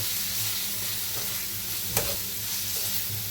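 Chopped shallots fry in a pan with an even, close sizzle and low hum, broken by one sharp spatula knock midway, no voices.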